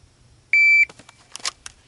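One clean electronic shot-timer beep, about a third of a second long, sounds during dry-fire pistol practice, followed by a few sharp clicks and light handling noises close by.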